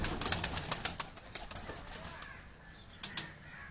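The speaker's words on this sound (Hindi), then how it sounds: "ये कुछ चंद कबूतर हैं उस्ताद अब्दुल बासत भाई के" Pigeons taking off and flapping their wings on a Karachi rooftop, a burst of quick, close wingbeats at the start that thins into scattered flaps and fades, with faint background noise.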